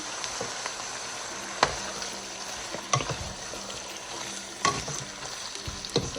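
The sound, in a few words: organic chicken sautéing in a pan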